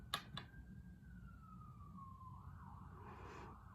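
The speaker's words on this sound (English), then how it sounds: "Do you hear the police siren?" A police siren wails faintly in the distance, its tone sliding slowly downward and then warbling as it fades, over a low background hum.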